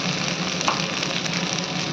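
Cumin spice paste with whole cumin and a small tomato sizzles steadily in oil in a pan for the matar paneer, an even close crackle with no talk.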